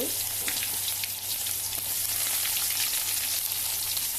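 Onions frying in hot oil with mustard seeds, cumin and a dried red chilli give a steady, crackling sizzle with tiny pops throughout, close and fairly soft with no voices.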